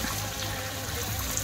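Hot spring water pours steadily into a warm pool at a resort in Bali, a continuous close, loud splashing rush with no pauses and no voices.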